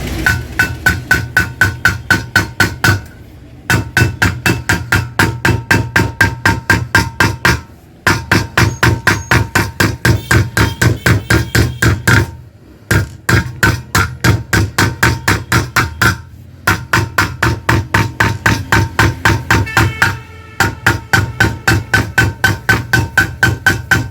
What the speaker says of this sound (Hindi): हल्की हथौड़ी मारनी होती है, बहुत हल्की, बहुत आहिस्ता आहिस्ता, नहीं तो डाई प्लेट टूट जाएगा